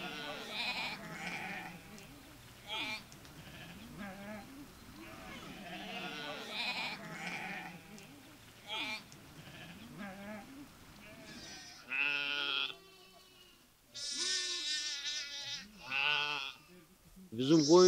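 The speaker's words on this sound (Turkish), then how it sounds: "Bizim koyun şimdi yerli koyunudu yani, kuyruklu koyun." Fat-tailed local-breed sheep bleat repeatedly nearby in a village flock, several wavering cries in succession, with people talking at times between them.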